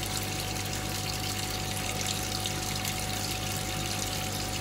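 Water runs steadily from a tap in a garage, a continuous gushing hiss with a low hum under it and no pauses.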